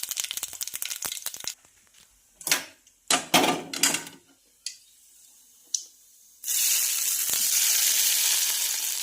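Hot tadka of oil and spices is poured onto bottle gourd appe batter. It starts as a loud, steady sizzle, breaks into bursts of spitting crackle, and ends in a strong hiss.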